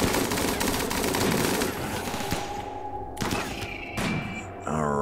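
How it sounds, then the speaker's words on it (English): Rapid sustained automatic gunfire from a RimWorld colony battle aimed at an ancient ship, dense bursts of shots layered together at close range, with a few heavier thuds and a pitched electronic tone near the end. "Fire at ancient ship."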